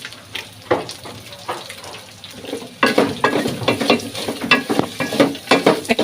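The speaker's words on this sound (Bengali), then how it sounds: "আর এখানে চিকেন ফ্রাইও হচ্ছে।" Chicken frying in a home kitchen pan, a steady sizzle broken by repeated stirring scrapes and clatter that grow louder and busier in the second half, with no talking.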